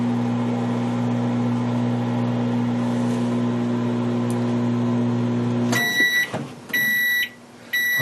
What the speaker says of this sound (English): This is not the most powerful microwave in the world, so it's going to take about 30 seconds.